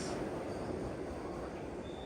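A Vande Bharat Express train rolls past at Gudur without stopping, a steady broadband rumble and rush of wheels and air that holds at a fairly even, moderate level throughout.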